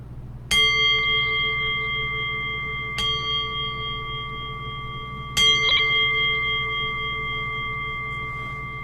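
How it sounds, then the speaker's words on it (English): A meditation bell rings three times, each strike clear and close with a long, pure ringing decay, spaced a few seconds apart against a quiet low hum. "I'll cue that by ringing the bell 3 times."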